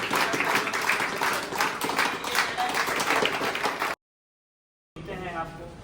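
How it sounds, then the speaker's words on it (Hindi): Applause in a hall for a junior boxing championship medal winner in the 54–57 kg category, dense clapping with voices mixed in for about four seconds, then a gap of silence before more crowd noise. "जोरदार तालियां।"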